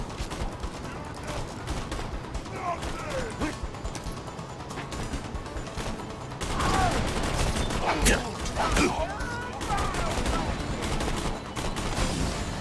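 Rapid gunfire from the video game Borderlands 2 rattles in bursts throughout, louder in the second half, mixed with other game effects and sharp impacts.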